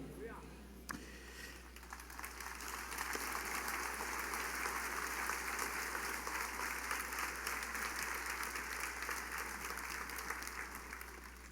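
Congregation applauding in a church service, sustained dense clapping from a large crowd that swells after a couple of seconds and holds steady, fairly distant with a low constant hum underneath.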